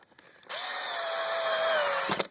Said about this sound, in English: make sure you're up against the little plywood strip, and then screw them in